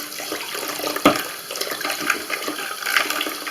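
Water running into a bathroom sink basin while it is rinsed out after unclogging, a steady close splashing stream with a few sharper knocks and splashes.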